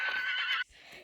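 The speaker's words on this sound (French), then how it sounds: "Et là-bas il y a Sabine et son cheval du coup" A horse at an equestrian festival lets out a loud, close whinny that holds for about half a second, then cuts off into quieter background noise.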